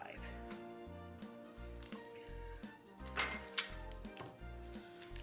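A small ramekin dish clinks and rattles against other kitchenware as it is fetched during cooking, with a few sharp chinks standing out over steady background music.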